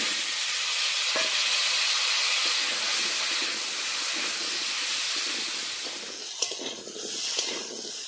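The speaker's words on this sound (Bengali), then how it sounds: "এবার মাছ ভাজা তেলের মধ্যে আলু ভেজে নেব।" Potatoes frying in hot mustard oil already used for frying fish in a village kitchen, giving a steady loud hiss and sizzle throughout, with a few soft stirring clinks near the end.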